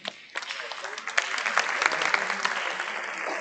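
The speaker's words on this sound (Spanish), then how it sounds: "le vamos a dar un bienvenido y es un aplauso así" Welcoming applause from a session audience, swelling from a quiet start into brisk, fairly close clapping that holds steady, with some voices mixed in.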